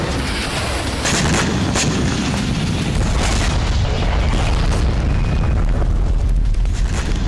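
Heavy rumbling blasts and roaring fire from a bombardment of Crimea, loud and continuous with deep low booms and crackling bursts throughout.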